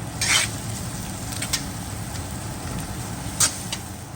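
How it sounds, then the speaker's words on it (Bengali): Garlic frying in oil for a restaurant-style butter chicken, a continuous close sizzle broken by several sharp scraping stirs of a spatula against the pan. "এই যে রসুনটা কিন্তু হালকা একটু গোল্ডেন হওয়া শুরু করেছে"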